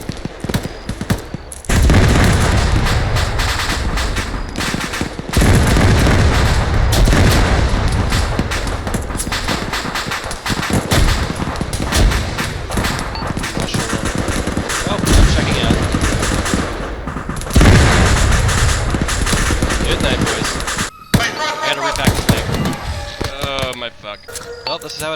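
Gunfire and explosions in the military shooter Arma III, loud dense bursts of automatic fire and booming blasts rolling almost continuously, with voices talking over the combat.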